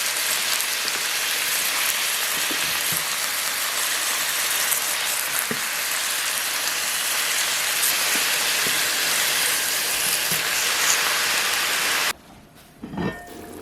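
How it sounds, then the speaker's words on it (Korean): Cabbage wedges grilling in olive oil over high heat give a steady, loud hissing sizzle that runs unbroken for about twelve seconds, with a few faint taps from the pan, before cutting off abruptly into quieter room noise. "타지 않을 정도의 강불에서 각각의 면을 1분간만 구워주시면 돼요"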